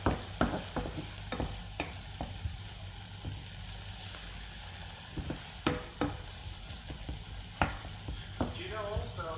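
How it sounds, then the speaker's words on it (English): Peppers frying in a pan for Turkish baked beans, a steady low sizzle with intermittent sharp scrapes and stirring clicks from a utensil, close and moderately quiet, with no talking. "Some browning of the peppers, you need to see it's getting a little brown."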